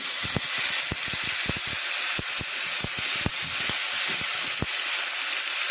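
Cumin seeds with onion and garlic fry in hot oil, a loud, dense hiss with sharp popping crackles scattered throughout, close up and continuous, without any voices.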